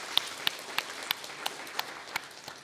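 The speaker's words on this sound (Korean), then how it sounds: "우리 날마다 승리하시는 우리 주님 앞에 감사의 박수 올려드립시다." A Korean church congregation at a Sunday worship service claps in a slow, even rhythm, roughly one clap every third of a second, fairly faint and heard from some distance.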